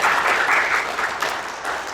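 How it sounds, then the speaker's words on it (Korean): A church congregation gives the choir a big round of applause, filling the room with loud, continuous clapping that tapers slightly toward the end of the brief burst. "우리 성가대 더 열심히 하시라고 우리 큰 박수로 하나님께 영광을 올려드리겠습니다"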